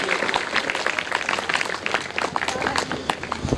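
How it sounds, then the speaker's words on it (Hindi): An audience at a Ram Katha religious gathering in Ayodhya applauds steadily, a dense patter of many hands with a voice talking over it. "जोरदार तालियों से"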